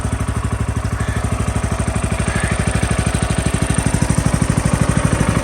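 A warmed-up wood processor engine idles steadily nearby, a loud, even chugging with a fast regular pulse and a constant mechanical rattle throughout, with no voices.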